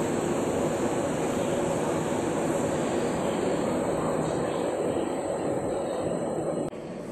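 Steady, loud rumble and rush of a red-line Singapore MRT train in motion, heard from inside the carriage as a continuous broadband roar with no talk.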